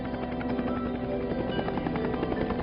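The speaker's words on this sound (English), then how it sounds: "airlift by helicopter was usually the best rescue option" A helicopter flies with a steady, loud, continuous rotor thrum and engine drone, close and unbroken, with no talking.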